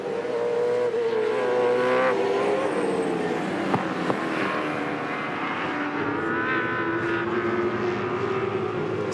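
V8 Supercars race at Oran Park in 2007, the Orcon Ford Credit car among them, engines howling and shifting pitch as cars pass, with a commentator's voice running over the racing noise.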